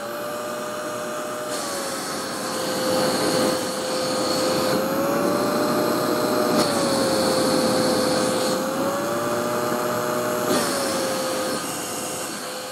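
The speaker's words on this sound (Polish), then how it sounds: "Odkurzacz jest cichutki." A Verk Group 15703 mini handheld vacuum cleaner runs with a steady motor whine and a high tonal hum that shifts pitch slightly as its speed changes, continuous and close.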